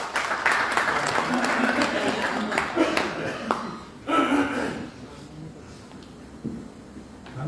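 An audience breaks into applause at a talk on Vedic-era leaders and building customer trust: a dense, fairly loud patter of many hands that swells, eases, then surges again briefly before fading.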